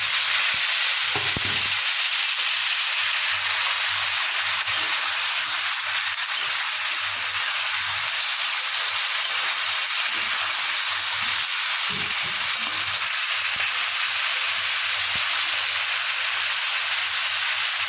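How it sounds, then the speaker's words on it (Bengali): Eggplant pieces fry in hot oil in a pan for a simple Bengali home dish, giving a loud, steady sizzle with a few brief scraping stirs and no voices. "এবার এর মধ্যে বেগুনটাকে দিয়ে দেবেন।"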